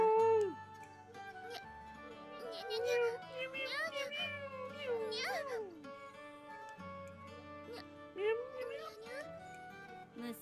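Cats meow in the game Nights of Azure, several rising and falling cries over a steady music bed, with voices in the mix.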